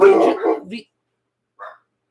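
Dogs bark loudly and close by, upset by neighbors setting off fireworks: a dense run of barks for under a second, a pause, then one short bark.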